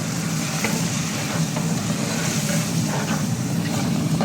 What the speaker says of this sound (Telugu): మసాలా కూడా వేసి కొంచెం ఫ్రై కొంచెం ఎక్కువ